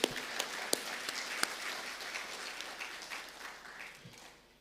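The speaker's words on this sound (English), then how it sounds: "So big round of applause to who have graduated." A graduation-ceremony crowd applauds the graduates, a broad continuous patter of many hands at moderate level with a few sharp louder claps early on, gradually thinning and fading toward the end.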